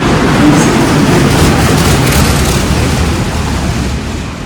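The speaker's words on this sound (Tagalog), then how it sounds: "The next train to arrive on platform 2 does not stop at this platform." A train rushes through a railway station platform without stopping, a loud, close, roaring wash of wheel and rail noise that fills the scene before easing slightly at the end.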